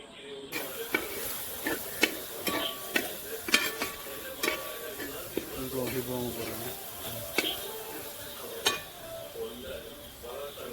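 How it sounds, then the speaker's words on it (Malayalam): Liver roast in a pan being stirred as chili powder and other ground spices are mixed in, with a steady sizzle of frying under repeated scraping and clacking stirring strokes, close and moderately loud, no talking. "ഇത്രയും നമ്മൾ ചേർത്ത് കൊടുത്ത് നല്ലപോലെ ഒന്ന് ഇളക്കി യോജിപ്പിക്കണം"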